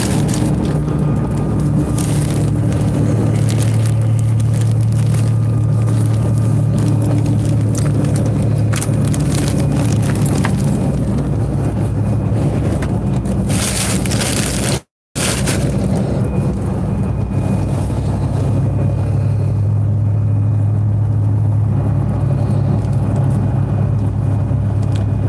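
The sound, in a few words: riding inside a Greyhound bus to L.A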